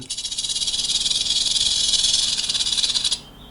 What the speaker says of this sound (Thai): เอาเสียงนี้งูหางกระดิ่ง